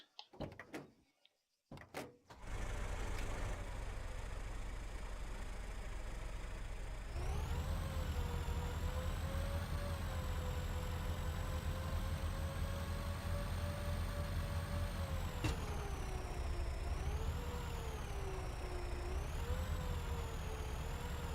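Truck engine idling steadily in Arma 3, a continuous loud drone with a low rumble that rises and shifts pitch as it revs, following a few brief knocks at the start.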